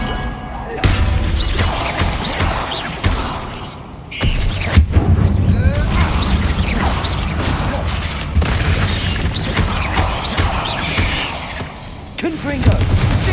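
Repeated booming spell blasts of the Bombarda explosion charm in Hogwarts Legacy, mixed with other spell casts and game sound, some bursts louder, with a voice speaking at times.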